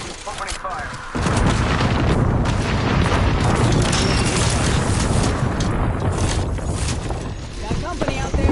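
Video game shootout with gunfire and explosions, a dense continuous barrage of booms and shots after a brief quieter opening, loud and close, with squad radio chatter mixed in.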